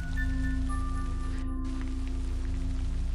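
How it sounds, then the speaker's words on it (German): Continuous rain in the forest of the game Kirisame ga furu mori, a gentle even hiss under droning background music, with no one talking. "Bei diesem Regen gehen selbst Erwachsene nicht in den Wald."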